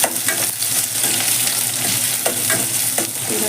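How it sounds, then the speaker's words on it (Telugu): Onions and spices fry on a low flame for a stuffed brinjal gravy, with a steady close sizzle and occasional stirring scrapes in the pan. "కాస్త సన్నగా మంట పైన అన్నీ వేయించుకోవాలి"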